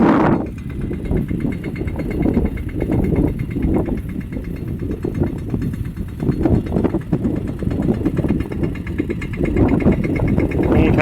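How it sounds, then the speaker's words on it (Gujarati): A tractor engine runs steadily at close range in a rural village, its low chugging drone continuous and fairly loud throughout with no speech over it. "સરપંચ આવે છે ટ્રેક્ટર લઈ"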